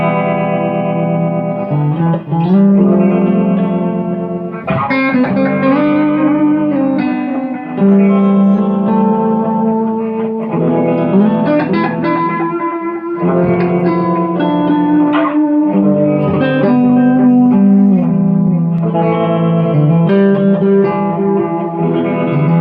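Tanglewood Signature STR 1 electric guitar played with clean tones, a steady run of chords and single notes with some effects coloring, close and loud throughout with no voice.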